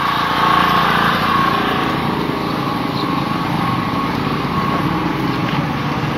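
A motorcycle engine screams at sustained high revs during a burnout, a loud, steady buzzing whine that holds through the whole stretch with little change.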